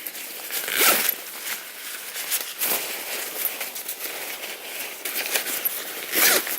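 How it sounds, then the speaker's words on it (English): Zipper on a Venture Pal packable backpack's front compartment, pulled in several quick rasping strokes up close, with brief pauses between runs and a louder final pull. "The front of the bag has another zippered compartment right on the top."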